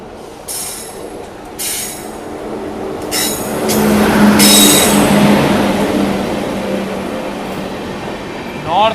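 The North East Express, running from Kamakhya to Anand Vihar, rolls past a halted train at a railway crossing, its wheels rumbling and clattering loudly nearby with high, metallic squeals that swell and fade.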